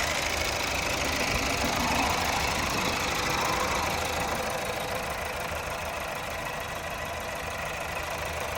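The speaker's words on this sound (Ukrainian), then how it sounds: "Мотор працює чітко, рівненько" A Mazda CX-5 engine idling steadily with an even, low rumble and faint rhythmic ticking, continuous and close, with no voices.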